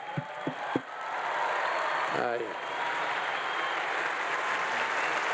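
An audience gives sustained applause as a tribute to engineer Slim at a public talk, a dense wash of clapping that swells after a few brief vocal sounds and holds loud to the end, with a voice briefly heard over it.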